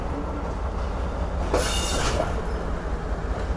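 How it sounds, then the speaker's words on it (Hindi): Shunting train at a station platform, moving at some distance with a steady rumble of coaches and a brief burst of high-pitched wheel squeal in the middle. "आगे आपको एक और ट्रेन दिखाई दे रही है कि ज़रूर मिलर एक्सप्रेस की शंटिंग हो रही है"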